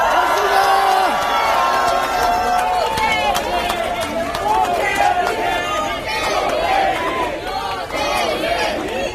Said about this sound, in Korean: 한 분 한 분 소개해드릴 때마다 힘찬 박수와 성원 부탁드립니다